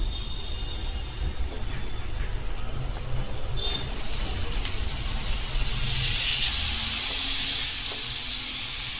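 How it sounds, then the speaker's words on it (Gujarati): Cut kantola (spiny gourd) going into a hot seasoned pan on a gas stove, giving a steady broad sizzle with faint stirring clatter that stays even and fairly loud throughout, with no one talking. "આ સમયે હવે કંટોલા કટ કરીને રાખેલા છે તે નાખશો."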